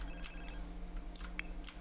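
A phone in The Sims 4 City Living rings faintly in short electronic bursts over a low steady game hum, with a few light clicks in between.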